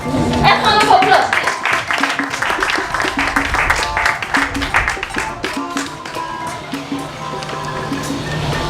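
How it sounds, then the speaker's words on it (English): Audience applause at a PAWD Ghana 2018 event, scattered, uneven clapping mixed with crowd noise and talking voices, fairly loud and near, with irregular sharp hand claps over a busy hall background. "And round of applause."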